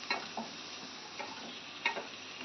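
Butter beans, potato, carrot and curry leaves sauté in a pan with a steady low sizzle, broken by a few sharp scrapes of stirring, with no voices.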